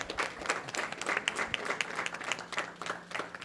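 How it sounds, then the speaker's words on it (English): A virtual May Day parade audience gives a steady round of applause, dense clapping running the whole moment at moderate loudness with no talk over it. "Let's give a round of applause for that."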